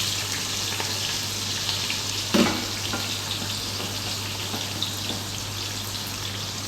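Green chilli and onion go into a hot pan of oil and sizzle steadily, with a brief clatter partway through and a constant soft crackle otherwise.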